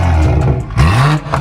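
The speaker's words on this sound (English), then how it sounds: "So this is what my car will sound like by the end of the day." A BMW M240i with a catless downpipe exhaust revs up close, two quick rising throttle blips with a deep, raspy roar that drops back between them.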